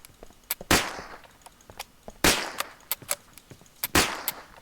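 Gunshots against enemies in TheDeadLinger: several sharp, loud reports with decaying tails ring out at irregular intervals, interspersed with smaller quick pops and clicks.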